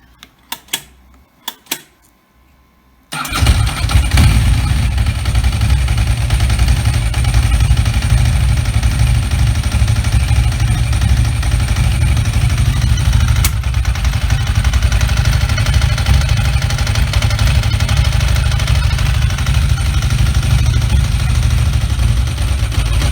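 A Ducati Superlight II motorcycle with replaced carburetors and no choke. A few clicks are followed by the engine firing after about three seconds, then a loud, steady, rumbling idle that runs unbroken and close with no voices.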